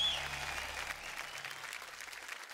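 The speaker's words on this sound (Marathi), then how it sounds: "एकदा जोरदार टाळ्या अंकितासाठी" Studio audience applause for a performer on a Marathi TV stage show, steady clapping throughout that tapers slightly toward the end, with faint low background tones underneath.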